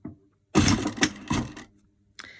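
A sewing machine stitching a fabric seam runs in short mechanical bursts, stopping and starting as it reverses for a back stitch, close and fairly loud with brief pauses between runs.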